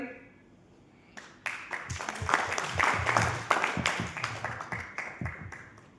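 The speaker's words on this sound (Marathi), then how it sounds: "चल सर्वजण टाळ्या वाजवतील तिच्यासाठी" A group of schoolchildren breaks into applause after a quiet moment, the overlapping claps swelling and then thinning over several seconds, with some faint voices underneath.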